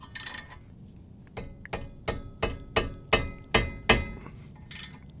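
A ratchet wrench tightens the lower brake caliper bolt on a 1998-2002 Toyota Corolla. It gives a steady run of about ten sharp metallic clicks in an even rhythm, close by, with no talking over it.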